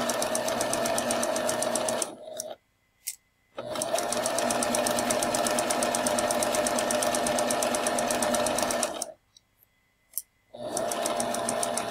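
A sewing machine runs steadily, stitching fabric along a 3/8 inch guide, in two long, even, rapid bursts with short silent pauses between them and no talk.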